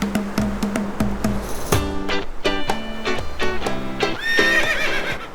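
Wild horse and its mare at a wildlife park, loud repeated neighs and whinnies over scattered hoof clops, close and clear, with no talking.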